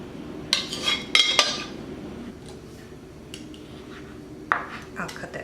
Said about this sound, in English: So now I'll cut up my pork. I'll take it out of my crock pot.